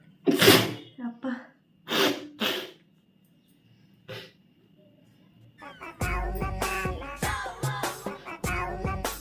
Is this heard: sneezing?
yes